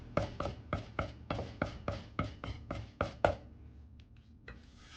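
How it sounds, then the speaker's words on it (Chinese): A knife chops ginger and scallion on a cutting board in about a dozen steady, evenly spaced strikes, close and crisp, followed by a couple of lighter taps. "再切碎"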